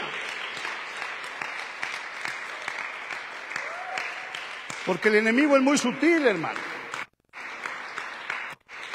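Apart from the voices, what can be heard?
church congregation applauding the Lord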